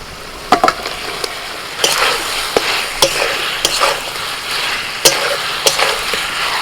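Fried potatoes sizzle steadily in a pan of cooked-down spice paste made with cumin powder and salt, while a spoon scrapes and taps the pan at irregular intervals, loud and close.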